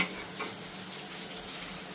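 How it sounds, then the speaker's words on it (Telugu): Steady hissing sizzle of mustard seeds, black gram, split chickpeas and cumin seeds frying in hot oil, close up, with no voices. "ఈ 4 అండి వేసేసుకొని అలా కొంచెం లైట్గా ఫ్రై చేసేస్తానండి"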